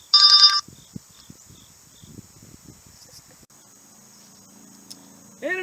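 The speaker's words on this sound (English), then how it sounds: "Pardon my phone call." A phone rings in a short electronic burst at the start, and another ring begins at the very end. Quiet, faint speech and small background noises fill the gap between the rings.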